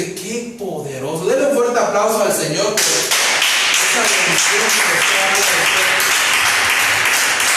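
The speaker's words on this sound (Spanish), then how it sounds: "Denle un fuerte aplauso al Señor" A church congregation breaks into loud, sustained applause that swells and holds steady, following a preacher's amplified speech at the start.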